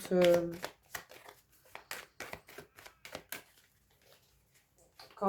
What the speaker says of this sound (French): Je remélange un petit coup parce que j'aime pas quand